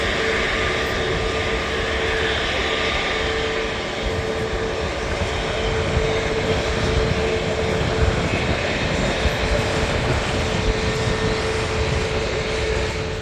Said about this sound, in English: Going past us on its way back out is Scandinavian Airlines.